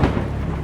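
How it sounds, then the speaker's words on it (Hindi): A brief, dense roar of heavy rain and rumbling thunder fills the moment as a horror story sound effect, loud and continuous with a deep low-end wash. "बाहर बहुत तेज बारिश हो रही थी"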